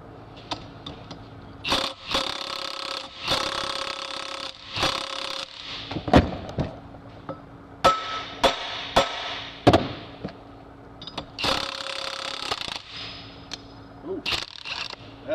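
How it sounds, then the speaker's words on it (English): Metal tools clank and scrape as a puller is fitted to the flywheel of an E-TEC 800 engine, with sharp irregular knocks, ratcheting and clatter close by in a quiet workshop. "I'll get that puller on there, and we'll get that flywheel off right now."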